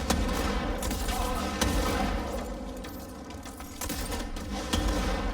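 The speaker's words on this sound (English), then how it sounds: "This is like the rocket launcher." A charged, rocket-launcher-like weapon fires in the game Control, with a steady stream of rapid explosive bursts and a few sharper blasts over a dense, noisy combat background.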